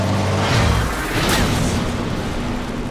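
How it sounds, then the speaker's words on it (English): A burst of explosion in the car-combat video game Twisted Metal, a loud rumbling boom with crackling noise that swells and fades over a few seconds, with no talking. "Did you just explode Anthony?"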